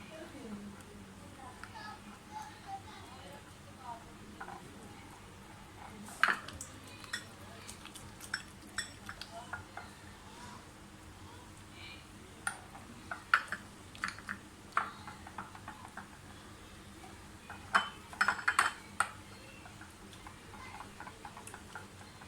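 Eggs with salt, chili and ginger being mixed in a bowl: a series of quiet, sharp clicks and taps from beating against the bowl, in bursts under a low background hum.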